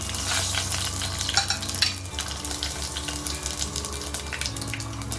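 Mustard seeds, cumin and dried red chillies sizzle and crackle in hot oil, a steady frying hiss with brief stirring clatters, close by and without talk.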